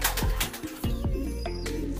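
A racing pigeon coos and flutters up close, its soft repeated calls cutting through a busy background at a pigeon race loft.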